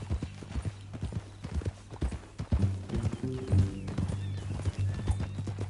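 Rhythmic horse hooves clip-clopping in Red Dead Redemption 2, steady and fairly close, with a brief whinny-like tone and a low musical drone underneath.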